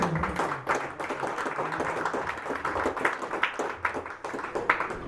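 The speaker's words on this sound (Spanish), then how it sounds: "Dale un aplauso al Señor" A church congregation claps during a sermon, giving fairly quiet, rhythmic, sharp claps from many hands, with no voices heard.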